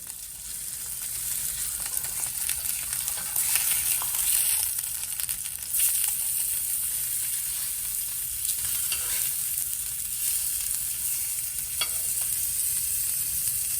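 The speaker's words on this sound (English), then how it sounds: "We want to crisp that skin." Skin-on red fish fillet sizzling in a hot pan, a continuous bright crackling hiss with occasional pops, steady and close throughout.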